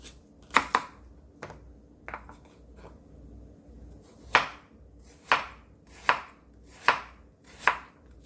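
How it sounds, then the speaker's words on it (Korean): Knife chopping radish into thin slices on a cutting board for a bean sprout and dried pollock hangover soup, with a few scattered cuts followed by a steady series of five or six distinct, close, sharp chops. "얇게 썰어주세요"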